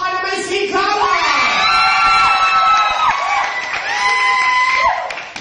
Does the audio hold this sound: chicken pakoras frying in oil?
no